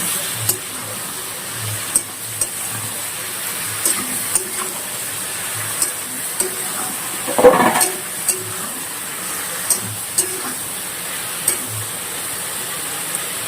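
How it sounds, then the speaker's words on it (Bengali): Vegetables with turmeric and salt are stirred in a pan for a pangas fish and eggplant curry: a steady low sizzle with regular spatula scrapes and taps, one louder clank in the middle. "এবার ভালো করে সবজিগুলো কষিয়ে নেব"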